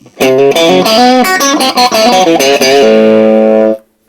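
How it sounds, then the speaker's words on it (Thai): A Fender Japan guitar amp turned up to full volume plays a fast run of electric guitar notes that ends on a held chord, loud and close, with mild vintage-style overdrive breakup before it cuts off. "ตอนนี้เราใช้ วอลลุ่มสุด มันจะแตกได้แค่นี้เป็นวินเทจ"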